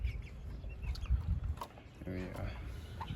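Pasture-raised chickens in a coop make soft clucks and brief calls that come and go between stretches of speech, with a louder stretch of clucking near the end.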